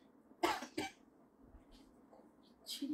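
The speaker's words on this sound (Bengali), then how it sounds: "কাশি" A woman coughs twice in quick succession, then coughs again near the end, close and loud in a quiet indoor room.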